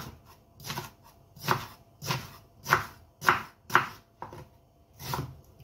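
A kitchen knife thinly slices vegetables on a cutting board for a chicken stock. About nine crisp chops come in a steady, unhurried rhythm, close and fairly loud, with no talking.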